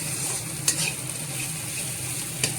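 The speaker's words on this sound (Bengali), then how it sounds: "একটুখানি আদাটা একটু ভাজা ভাজা হোক" Ginger paste sizzling in oil in a pan while being stirred, a steady soft frying hiss with a couple of faint clinks from the spoon, no talking.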